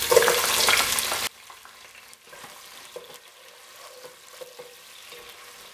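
Onions dropped into hot oil in a cooking pot. A loud sizzle bursts in at first, then quickly settles into a soft, steady frying crackle with faint stirring clicks.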